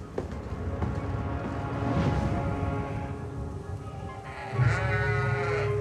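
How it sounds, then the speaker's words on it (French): Lacaune sheep, the dairy breed behind Roquefort cheese, bleat in a series of drawn-out, wavering calls, one loud cry standing out near the end, with no talking over them. "Depuis toujours, c'est cette petite bête qui est à l'origine du Roquefort, la brebis."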